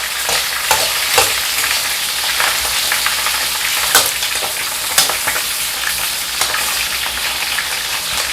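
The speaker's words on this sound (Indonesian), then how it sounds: "Ini goreng pelan-pelan aja." Food sizzles steadily in a frying pan over gentle heat, a dense continuous crackle with scattered sharper pops and occasional stirring clicks, close by and with no talk.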